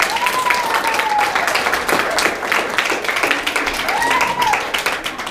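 An audience at an interfaith Imbolc ritual claps for the Halifax Pagan Singers, sustained applause throughout, with a voice calling out over it.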